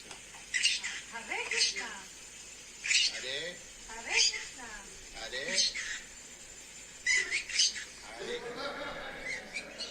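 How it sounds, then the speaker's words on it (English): A bird calls repeatedly in short, sharp squawking bursts at fairly regular intervals, moderately close, heard over a quiet room background with some talking. "That's the bird."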